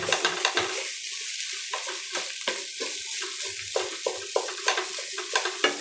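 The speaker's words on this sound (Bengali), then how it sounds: "আগে ঘি দিয়ে সুন্দর করে ভাজতে হবে" Grated carrots stirred and fried in ghee for carrot halwa, a bright continuous sizzle with a regular run of close spatula scrapes and taps against the pan, no talk.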